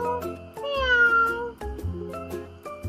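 A cat meows in a clear, close series of calls with rising and falling pitch, standing alone with no talk over it.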